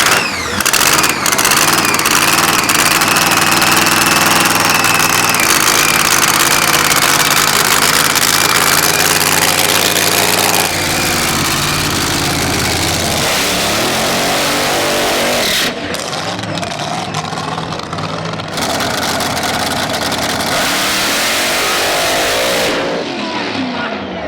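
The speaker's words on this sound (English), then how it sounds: "up here in his Nostalgia Funny car, about to make a pass down the track" A Nostalgia Funny Car on a drag strip blasts with a loud, harsh engine roar that holds steady, shifts in tone partway through, then drops abruptly into quieter stretches near the end.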